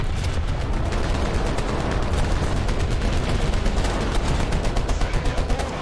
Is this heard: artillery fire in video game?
yes